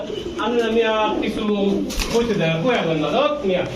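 At a pigeon farm, pigeons coo close by in repeated rolling, throaty phrases that overlap one another, with a busy background of murmur.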